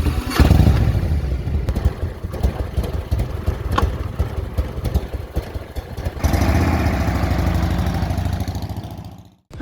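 Steady motorcycle engine drone on a ride through Parc Armorique in Brittany, a continuous mid-pitched rumble with slight clattering that shifts in tone partway through and cuts off at the end.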